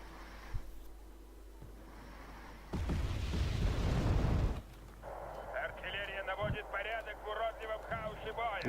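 Units firing in the Wargame Red Dragon strategy game, with a burst of heavy booming artillery-like blasts mid-clip amid softer battle noises, while someone talks over much of it.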